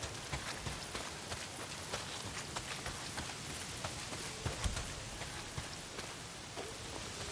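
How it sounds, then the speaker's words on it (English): Heavy rain pours down in the Days Gone video game, a dense, steady hiss with scattered louder drops and splashes throughout, fairly quiet and with no talking. "Well, not if it's pissing down rain."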